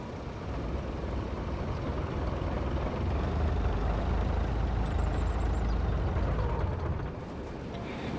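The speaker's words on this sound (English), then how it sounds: "We gotta get this damn truck out of the way." Truck engine in a farming video game, a steady low rumbling drone that rises slightly in the middle, with a brief faint high chirp partway through and no talking.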